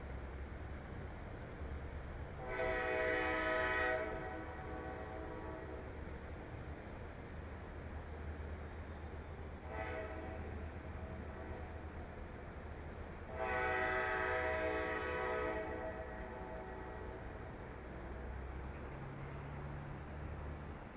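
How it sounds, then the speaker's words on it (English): CN train horns blare in long repeated blasts, three separate soundings over a low rumbling rail background, heard at moderate distance outdoors. "now we've got the CN trains honking their fucking horns"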